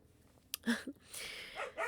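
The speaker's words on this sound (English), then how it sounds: "now the dogs are barking" A few short dog barks and yips, somewhat distant and faint, in a quiet room.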